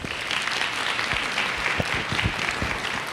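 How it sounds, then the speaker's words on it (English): An audience applauds after a school district superintendent is introduced at a community event, a steady, dense round of clapping with scattered louder claps throughout, moderately distant and alone. "Please give him a round of applause and welcome him to CMS."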